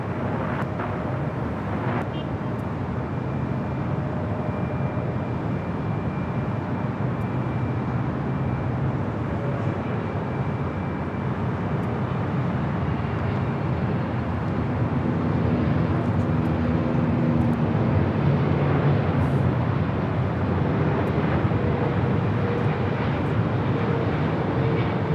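An airliner lands on runway 24 right at Los Angeles International Airport, a broad, distant jet roar that builds and rumbles steadily throughout.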